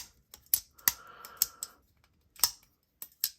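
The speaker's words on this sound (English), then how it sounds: "You get great clicks and clacks all around." A budget button lock pocket knife gives crisp close clicks and clacks, several sharp snaps spaced unevenly across a quiet background.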